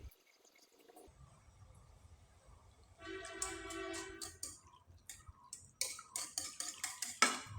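A spoon stirs a mixture of water, salt and soybean oil in a pot, with faint scraping at first, then clearer clinks and swirling liquid, ending in a run of quick, rhythmic taps against the pot.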